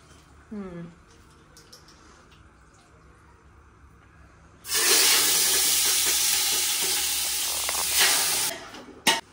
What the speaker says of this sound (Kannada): ಮಟನ್ ಹಾಕಿದ್ದಾರೆ, ಎಣ್ಣೆ ಹಾಕಿದ್ದಾರೆ, ಸ್ವಲ್ಪ ಅರಿಶಿನೂ ಹಾಕಿ ಇವಾಗ ನೀಟಾಗಿ ಫ್ರೈ ಮಾಡ್ಕೊತಾ ಇದ್ದಾರೆ